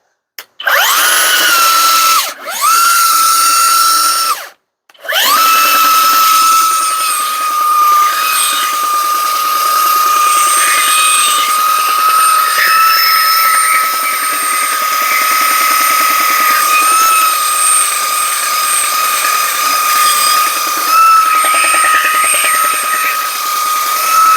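A Kobalt belt sander whines loudly at its highest speed, briefly cutting out twice near the start, then running steadily with a shrill, constant pitch.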